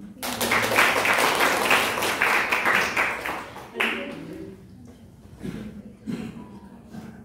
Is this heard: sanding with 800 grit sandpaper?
no